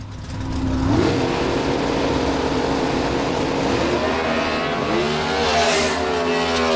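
A Competition Eliminator drag racing car launches at Noble, Oklahoma, the engine roaring up from idle into a loud, close, climbing howl that surges through gear changes and holds as it runs down the track, no talk.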